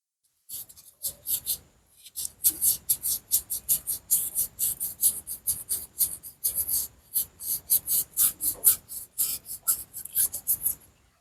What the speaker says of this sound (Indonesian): Kedua piston kita ampas ya, ampas yang halus sampai sedang, ampas halus nih.